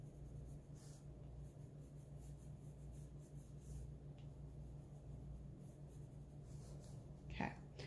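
Colored pencil shading on paper while drawing peaches, a soft, continuous scratchy rub close by, quiet and steady over a low background hum.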